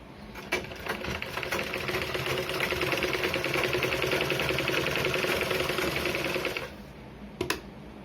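An electric sewing machine stitches a blouse front in one continuous whirring run of rapid needle strokes lasting several seconds, close and alone, then stops, followed by a couple of small clicks.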